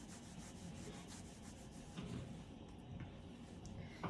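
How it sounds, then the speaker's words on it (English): An alcohol swab is rubbed firmly over skin before an injection, giving a faint, close, continuous scrubbing swish with small irregular strokes. "Rub it real good with the alcohol."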